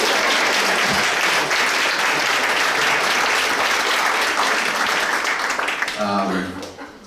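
Guests at a wedding ceremony clap together in a loud, sustained round of applause that fades near the end as a voice begins to speak.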